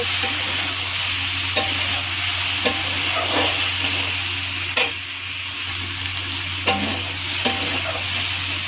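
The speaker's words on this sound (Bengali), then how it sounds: "ফুলকপিটা ভাজা হয়ে গেছে, এখন আমি নামিয়ে নেব।" Cauliflower frying in hot oil fills the scene with a loud, continuous sizzle, punctuated by occasional clicks and scrapes of a spatula stirring in the pan.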